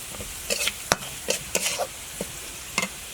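Browned onions in a pan with spoonfuls of turmeric and dried chili powder added, cooking for a lentil and okra dish; short crackling sizzle bursts and stirring scrapes come and go against a low background hiss.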